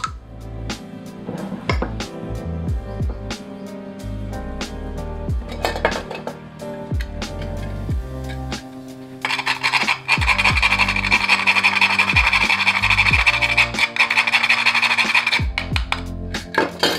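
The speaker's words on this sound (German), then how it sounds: "in eine Rührschüssel geben und mit dem Schneebesen verrühren" A whisk beats eggs, crème fraîche, grated nutmeg and ground pepper in a mixing bowl for quiche Lorraine, with uneven clinks and scrapes that turn into a steady, rapid metallic rattle against the bowl.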